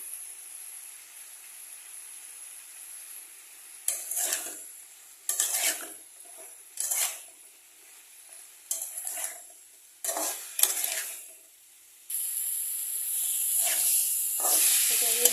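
Vegetables being stirred with garlic paste and spices in a hot pan for a vegetable chorchori: bursts of scraping and sizzling stirs come every second or so, then a loud continuous hiss near the end.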